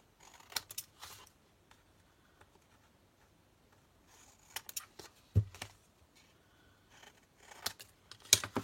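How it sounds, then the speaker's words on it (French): Scissors snipping the corners off a small scrap of paper for a handmade mini album, a few quiet close cuts in short bursts separated by pauses in a calm indoor setting. "Là, je coupe les coins."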